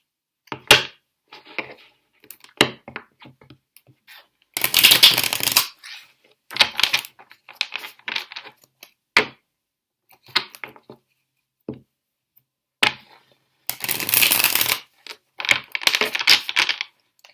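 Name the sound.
shuffling tarot cards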